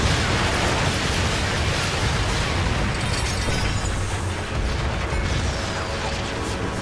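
Airstrike explosions in Renegade Ops, a continuous heavy roar of booming blasts and rumble filling the whole span, loud and dense with no clear gaps.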